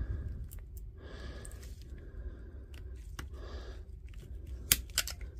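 Quiet, close snipping and crunching as a Parkside battery pack is cut apart, a few sharp clicks among soft scraping sounds in an otherwise hushed room.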